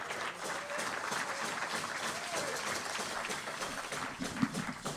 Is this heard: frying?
no